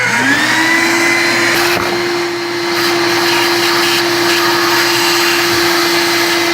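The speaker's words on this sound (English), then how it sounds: "I'm going to use a little shop vac." A small shop vac sucks debris out of the water pump bolt holes on a Chevy Silverado 5.7 350 engine. Its loud, steady motor whine runs close and unbroken from start to finish with no other sound.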